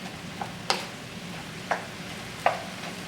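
A spatula breaking down and mixing lean ground beef in a pan, a few sharp scraping taps spaced about a second apart over a faint steady sizzle.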